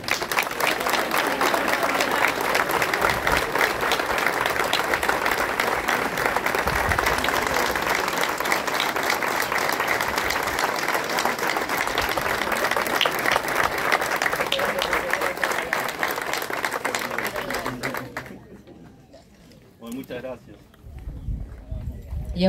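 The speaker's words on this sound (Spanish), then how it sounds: "Vamos a renovarle el aplauso, por supuesto." An audience at the 2023 swearing-in and handover ceremony for mayors in San Antonio de Arredondo applauds loudly and continuously for about eighteen seconds before the clapping fades away.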